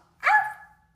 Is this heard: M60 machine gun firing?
no